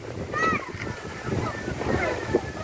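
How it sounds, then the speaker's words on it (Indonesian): Waves rolling onto a tropical beach at high tide at Nanga Woja, with steady wash and wind noise throughout while children swim at the edge and voices talk over the surf. "menikmati deburan ombak yang sementara menepis beberapa"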